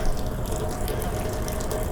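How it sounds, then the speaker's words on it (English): Water runs off a ceiling or roof outdoors at night with a steady splashing patter that stays loud and continuous throughout, heard up close with no talking. "For some reason, there's water coming off of the ceiling"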